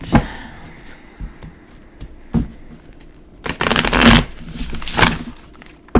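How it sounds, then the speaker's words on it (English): An oracle card deck being shuffled in several quick riffling bursts, crisp flutters close by, with quieter handling in between. "We're gonna go ahead and shuffle the cards and pull for the shield."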